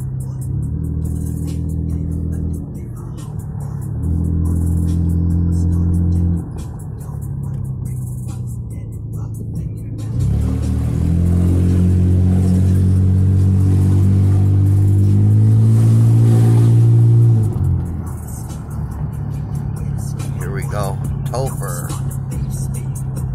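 A car with its warning lights on, driven on a town street, hums along steadily and then swells into a louder, rising engine note as it accelerates before easing back.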